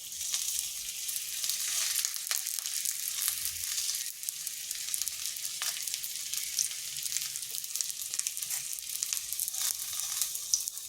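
Egg filling for a Mughlai-style egg paratha frying in a couple of spoons of oil over slow-to-medium heat, a steady close hiss and crackle that runs unbroken throughout with no voices.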